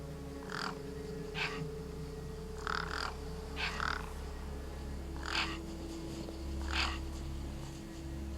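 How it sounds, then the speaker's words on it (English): Crows in the game Beyond a Steel Sky caw repeatedly while feasting on a corpse, harsh calls coming in irregular clusters over a steady low ambient hum. "No way I was going to get between those birds and their feast."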